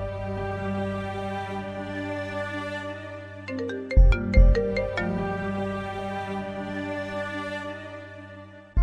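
A phone ringtone rings on and on, unanswered, as a steady melodic electronic tone at moderate volume with no talking over it.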